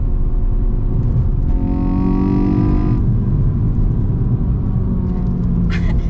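A 2021 Hyundai i20N engine blips up in a rev-matched downshift, the revs rising and falling over a continuous road rumble from inside the car.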